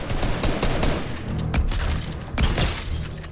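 Another player's gunfire in Fortnite cracks out as a dense volley of loud shots, with a couple of heavier booming blasts standing out partway through, all without talking.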